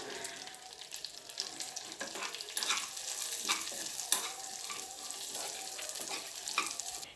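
Vermicelli roasting in ghee in a pan while being stirred, giving a steady soft sizzle with repeated scraping strokes from the spoon, close and moderately loud, with no talking.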